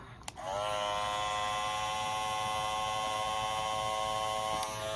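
A limited-edition Andis cordless hair clipper switches on with a click and runs on its own, holding a steady, close, loud electric buzz with a clear tonal whine for several seconds.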